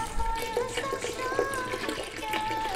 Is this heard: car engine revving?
no